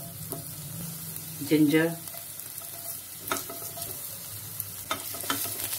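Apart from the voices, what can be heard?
garlic sautéing in hot oil in a pan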